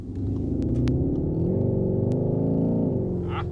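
A Skoda Octavia RS iV engine in sport mode revs up and holds a deep, steady rumbling growl, heard from inside the cabin, with a few brief clicks on top.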